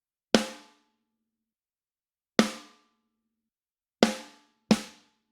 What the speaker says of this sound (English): The snare on its own sounds like this.